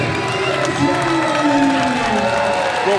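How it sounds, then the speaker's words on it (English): Wrestling crowd at the GLCW Blizzard Brawl event cheering and applauding for the tag team Axe and Smash Demolition, a loud, steady roar of clapping and shouting filling the arena, with an announcer speaking over it. "The crowd on their feet for Axe and Smash Demolition."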